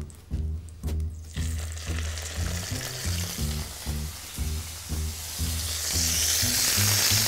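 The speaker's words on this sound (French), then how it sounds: "On démarre toujours la cuisson à 8 pour bien colorer notre viande." A small turkey roast searing in a hot pan with garlic in its skin, loud steady sizzling with rhythmic pulses of bubbling and spattering, building brighter toward the end, no voices.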